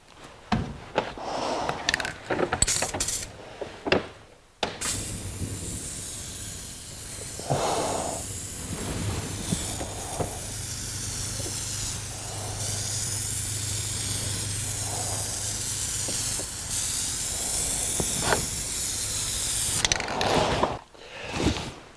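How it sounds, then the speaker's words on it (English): A spray gun lays clear coat onto the tub of a 1982 Jeep CJ7, a steady loud hiss running for about fifteen seconds between short mechanical clicks and handling noises at the start and end. "This is the first of 5 coats of clear, and this stuff is finicky, it likes to run."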